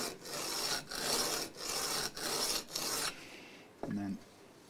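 Rough abrasive strokes against wooden guitar bridge feet on a vintage 335-style semi-acoustic set up, five close rasping passes in a steady rhythm, then a brief clunk as work pauses; no talking.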